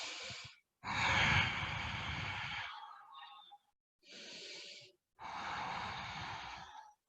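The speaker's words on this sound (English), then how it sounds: "Come back to your Ujjayi breath" Deep Ujjayi breathing during a vinyasa yoga flow: long, audible throaty breaths close to the microphone, one long inhale-exhale pair followed by two more, each separated by short silent pauses.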